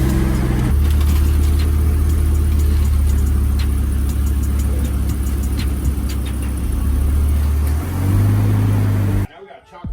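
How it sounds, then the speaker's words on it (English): A truck is driven slowly onto an oiled pad for tire work, its engine idling and rumbling steadily close by, with a brief rise in revs near the end. "we're gonna move the truck onto the pad"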